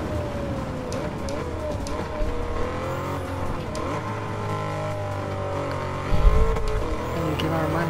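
Lamborghini Urus super SUV engine in Gran Turismo 7 racing, a steady droning drone with shifting pitch through gear changes, one louder surge near the end, continuous and close.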